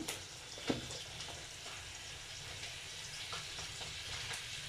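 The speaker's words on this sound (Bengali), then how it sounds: "কষায় নিচ্ছি" Bashpati fish curry with spices being sautéed in soybean oil, a steady soft broadband sizzle and crackle throughout with one brief sharper pop near the start, no voices.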